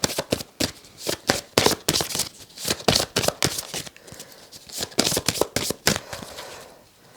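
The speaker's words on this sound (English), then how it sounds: "now let's shuffle these again" Tarot cards are shuffled by hand in a rapid series of crisp, riffling bursts that repeat in an irregular rhythm, close and clear with no talking.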